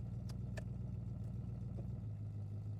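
A Triumph Stag V8 engine idles with a steady low, even rumble, heard close and continuously, with a few faint clicks and clatter over it and the pitch dropping slightly near the end.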